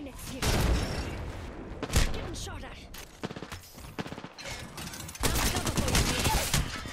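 Bursts of gunfire in Apex Legends fill the scene, with rapid automatic volleys and sharp single shots clustered near the start and end, loud and close, in a chaotic firefight.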